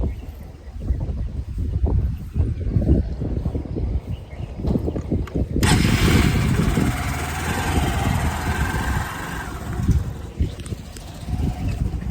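A motorcycle engine idles steadily nearby, a low continuous chug that shifts slightly partway through, with faint bird calls in the background.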